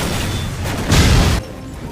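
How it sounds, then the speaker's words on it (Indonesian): Parked cars explode in a prison parking lot in a film scene, a loud booming blast that swells over a rumbling background for about half a second before cutting back to a lower, steady rumble. "satu demi satu mobil yang terparkir di area penjara tiba-tiba saja meledak"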